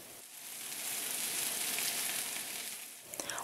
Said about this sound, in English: place the beef roll each by each on the pan carefully